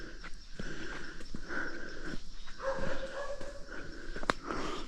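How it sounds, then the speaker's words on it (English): Hunting dogs bark now and then in the distance on a West Virginia mountain, faint, scattered yips and barks over quiet outdoor ambience with no talking. "Every now and then you'll hear them bark."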